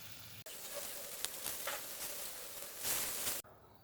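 Chicken coated in homemade barbecue sauce sizzles loudly on a high-flame grill, a dense steady hiss that starts and stops abruptly and swells briefly near the end.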